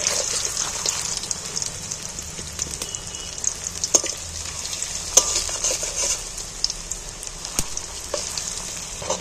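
Jackfruit pieces frying in hot oil in a home kitchen, a continuous bright sizzle with scattered crackles and occasional sharp pops, close and steady with no talking.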